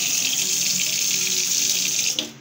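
Water running steadily from a movable kitchen faucet into a sink, a loud close hiss and splash that holds constant before cutting off abruptly at the end, with no talk over it.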